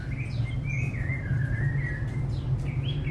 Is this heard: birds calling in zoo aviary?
yes